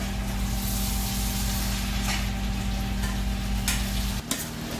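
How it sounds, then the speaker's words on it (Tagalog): Tomatoes and chili cook in a frying pan with a dense, continuous sizzle and a low steady hum beneath, while a spoon stirs throughout. A sharp clatter comes near the end, loud and close. "At ilagay na rin natin yung ating kamatis tsaka sili. At haluin natin ulit."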